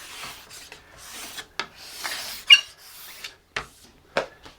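Hand tool shaving wood to clean up a guitar fretboard, giving a series of dry rasping strokes with short scraping bursts, close and fairly loud, with no talking.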